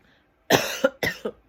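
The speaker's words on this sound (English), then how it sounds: "I always cough and I'm congested" Two harsh coughs in quick succession, close and fairly loud, with a short gap between them and quiet before.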